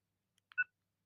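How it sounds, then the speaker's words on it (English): A couple of soft electronic beeps from a mini keyring camera followed by one short, louder tone, quick and clean against silence. "Beep sound."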